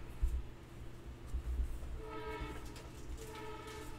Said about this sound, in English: And the train's coming.